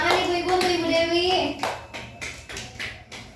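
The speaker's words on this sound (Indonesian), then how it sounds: "Tepuk tangan ibu-ibu untuk Ibu Dewi." Someone speaks briefly, then a group of mothers at a training session breaks into a short burst of hand clapping, close and uneven, fading out after a couple of seconds.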